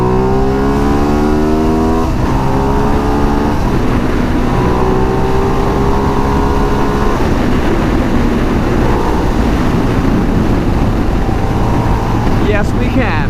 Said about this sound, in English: The Ducati Diavel can pass oversized loads.